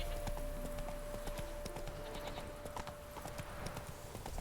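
Horse hooves clip-clopping in a steady galloping rhythm in The Witcher 3, faint and continuous over the game's ambient background.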